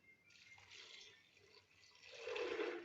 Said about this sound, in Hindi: और तकरीबन हम 1 लीटर पानी डालकर